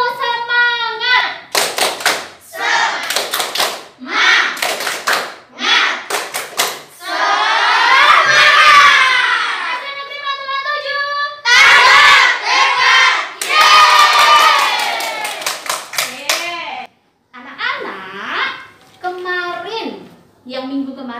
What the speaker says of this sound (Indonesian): Yuk kita bangkitkan semangat dulu dengan tepuk semangat